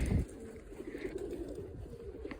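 Sport pigeons coo in a steady low murmur close by, with a brief louder burst at the start and continuous soft warbling throughout.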